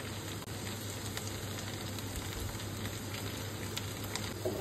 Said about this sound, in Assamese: সেয়ে মঙুৰৰ মাছখিনি অলপ দি দিম।